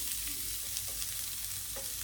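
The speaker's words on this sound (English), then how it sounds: "Now I'm gonna put the onions." Onions sizzle and fry steadily in leftover sausage grease in a pan, a constant close hiss with light stirring, no voices present.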